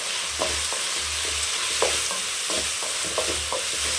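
Onion and tomato with rock salt sizzle steadily in a pan while a spoon stirs and scrapes in a repeated rhythm, close and moderately quiet, with no talk.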